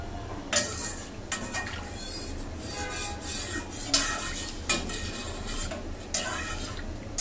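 A potato and egg curry is stirred in a pot with a series of sharp, evenly spaced clinks from a spoon against the rim. A low simmering bubble runs underneath throughout.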